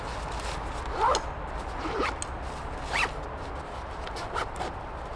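Zipper on a pouch for an EDC coffee and tea kit being pulled shut, several short raspy zips spaced about a second apart, close and clear against a steady quiet background.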